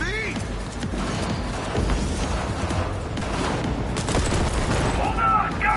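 Gunfire crackles in a Cyberpunk 2077 firefight on PlayStation 5, with repeated shots and booms rattling steadily under excited in-game character voices.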